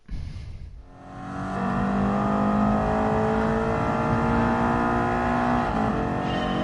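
Toyota MR2 engine in Gran Turismo Sport revving up after a short dip, then holding a loud sustained high-pitched drone with a slight change near the end.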